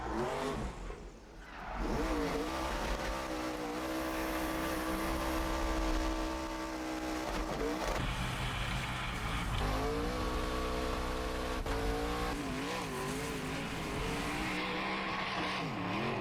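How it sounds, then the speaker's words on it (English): A rally car's engine roars and revs hard as it climbs a mountain road, pitch rising and falling through gear changes, with occasional tire squeal, loud and continuous. "You can hear the engine note change as it goes up"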